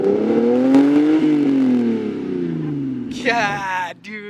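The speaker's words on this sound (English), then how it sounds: "A little rev on this thing." A bagged Lexus LS400 engine swells up in pitch and then eases back down in a single close rev, followed by voices talking nearby.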